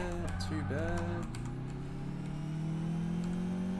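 Computer keyboard typing, a scatter of faint clicks over the revving engine of a car in the Test Drive Unlimited racing game, with a voice speaking over it.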